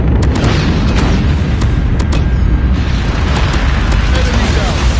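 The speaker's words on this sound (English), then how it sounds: "Warning, friendly nuke has been launched" A nuke detonating in a military shooter video game: a loud, continuous rumbling blast that saturates the low end throughout, with short crackling bursts and clicks layered over it.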